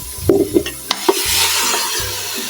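Pork belly is dropped into a pan of sautéed garlic, onion and tomato, with a few close clatters and stirring knocks. A bright sizzle then swells and holds steady to the end, and no one talks.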